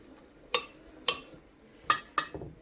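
A spoon scrapes and clinks browned butter around a pan, four or five sharp metallic taps spaced out over a quiet, close background.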